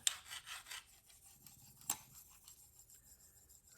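An ultra fine Spyderco stone on a KME sharpener works a Spyderco PM2 knife in S35VN steel with light pressure to remove the burr, making faint, soft rasping strokes with a few small scrapes in a quiet room.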